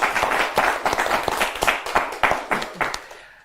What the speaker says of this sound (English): Let's give Dave a big round of applause, guys